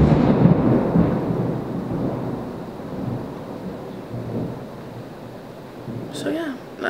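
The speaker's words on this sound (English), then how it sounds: "this like super, super loud thunder goes off" Loud thunder rumbles through a storm with rain falling, a heavy low roll that swells at the start and slowly fades.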